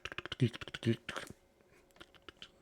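Rapid light clicks from buttons being pressed on a side display panel, a quick uneven series of close, crisp taps with talking over parts of it.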